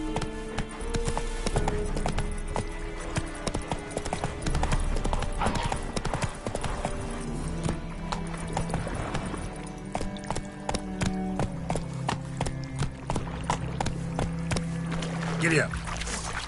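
In The Witcher 3 video game, a horse's hooves clip-clop in a brisk, steady rhythm for a long stretch, loud and close, while voices talk over the galloping.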